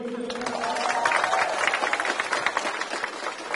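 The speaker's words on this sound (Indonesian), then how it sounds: "Kita beri tepuk tangan sekali lagi." Audience at an Indonesian election campaign rally applauds, a dense, steady wash of many hands clapping that rises after a brief tail of a voice and holds fairly loud to the end.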